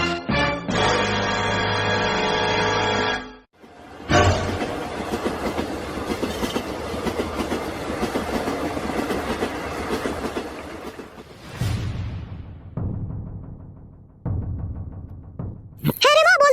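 Cartoon sound effect of a train running on rails: a steady, loud clickety-clack rumble that carries on for several seconds after a brief opening burst, then gives way to shorter louder bursts at the end.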